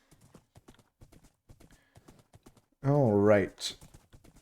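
A horse in Minecraft gives a series of light, quick hoof clops; someone speaks briefly and a loud whinny-like vocal swell rises near the end.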